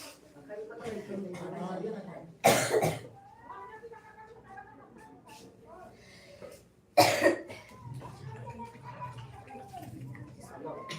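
Two sharp, loud coughs break out a few seconds apart amid ongoing conversation, with people talking before, between and after them.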